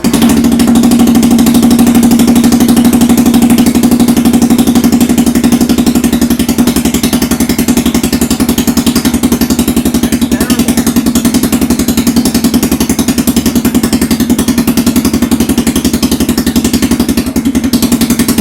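A Polaris Sportsman 450 ATV engine idles steadily with a new muffler fitted, a loud, continuous low rumble that holds even and unbroken throughout.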